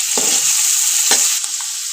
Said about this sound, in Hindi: अब हम इसमें शिमला मिर्च ऐड करेंगे। शिमला मिर्च 1 अदद बारीक कटी हुई। इसको आधा मिनट के लिए फ्राई करेंगे।